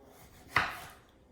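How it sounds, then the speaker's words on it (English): A single knife chop through a Roma tomato on a cutting board, one short, crisp cut with a brief decaying tail, quiet and alone. "I'm just going to cut them probably into quarters"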